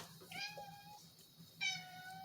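A house cat meows twice indoors, two clear drawn-out harmonic calls close to the microphone over a low steady room hum, with no talking.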